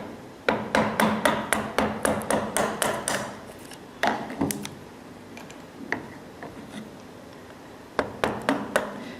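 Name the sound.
chiselling out the last layer of wood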